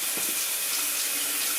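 A WaterPik dual shower head runs in dual head mode, with the rain head and second head spraying together to produce a steady, bright rushing hiss of water, plus a couple of soft splashes early on.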